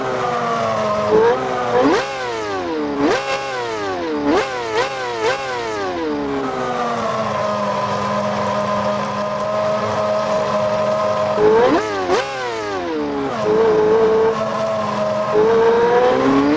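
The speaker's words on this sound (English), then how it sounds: "the older F1, this red one right here, also got a new idle sound and sound overall" An older red Formula 1 car in the Car Parking Multiplayer game idles with a steady buzzing drone, punctuated by several sharp revs that rise and fall in quick bursts, then a longer idle before more throttle blips near the end.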